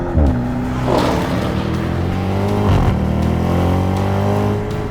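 A 2021 Audi RS7 driving, its engine note rising and falling through repeated revs and gear changes, loud and close, with a deep throaty rumble and a sharp burst around the middle.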